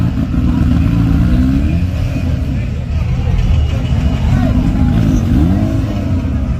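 A turbo Honda drag racing car roars at close range with a loud, sustained engine note and rising revs during a grudge race at a street track, while people talk over it.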